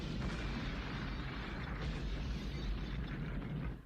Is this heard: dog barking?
no